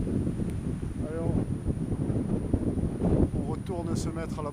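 Wind gusts across the Baie de l'Ouest, a continuous low rumbling buffet against the microphone that stays loud and close throughout, with a person speaking faintly beneath it.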